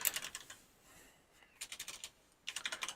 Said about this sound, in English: a new keyboard, one that I can actually type with